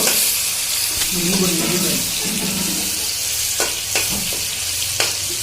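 Onions fry in a pan over low gas, a continuous close sizzle broken by a few sharp stirring scrapes near the end, with brief background voices partway through.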